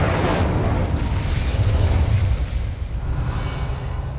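Incendio fire spell cast in the game Hogwarts Legacy: a sustained, loud roaring blast of flame that holds steady for several seconds and then eases slightly, dense and rumbling throughout.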